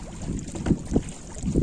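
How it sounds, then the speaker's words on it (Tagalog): Steady wind buffeting over open water while fishing for tilapia, with low rumbling gusts swelling and fading across the short stretch. "Mahangin kasi."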